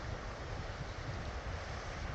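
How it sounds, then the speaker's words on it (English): A creek flowing steadily below a trail, a constant broad rushing wash of water with no breaks, fairly faint and distant, no voices. "I've been following this creek all day."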